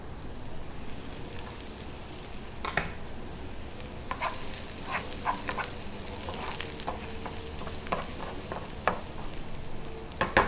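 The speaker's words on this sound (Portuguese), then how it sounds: "Deixo refogar para o aroma desses temperos eles abrirem e realmente exalar todo o sabor que tem no alimento." Garlic sautéing in a pan with a steady, loud sizzle and frying crackle, broken by scattered scrapes and taps of a stirring utensil throughout.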